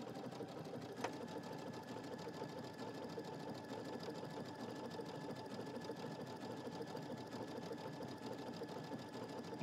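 Sewing machine couching thread and yarn, a steady fast mechanical whirr of stitching running continuously and fairly close, with no talking.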